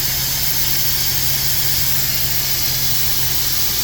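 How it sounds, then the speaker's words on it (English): Steady loud hiss of compressed air venting from the lift axle air bags on a Goldhofer heavy-haul trailer, continuous for the whole stretch with an engine hum underneath and no talk. "exhaust the air completely"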